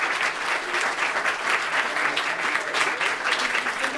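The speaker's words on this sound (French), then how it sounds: "Et applaudissez s'il vous plaît tous ces gens hyper cool" An audience at a film screening applauds the film's contributors, thick continuous clapping from a full room held at a steady, fairly loud level.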